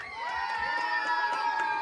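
A crowd of children cheering and shouting for a dad at the Monreale resort, a loud continuous high-pitched chorus of voices sustained for the whole moment.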